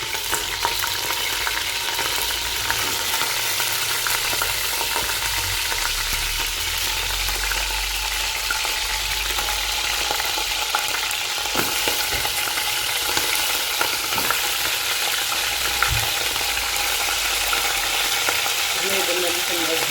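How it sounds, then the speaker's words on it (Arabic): Lamb meat from Eid al-Adha sizzles and crackles in hot oil in a pot for Moroccan couscous, a dense, steady frying hiss with scattered pops lasting throughout. "درنا اللحم مع الزيت غنخليو ان شاء الله يتسنى"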